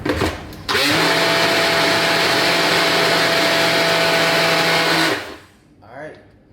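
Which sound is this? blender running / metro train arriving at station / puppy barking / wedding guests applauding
blender running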